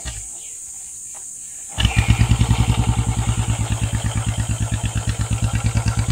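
Royal Enfield Bullet motorcycle, a BS6 model with a short bottle exhaust, fired up after a quiet pause, then settling into a loud, close, steady thumping idle with an even, pulsing beat.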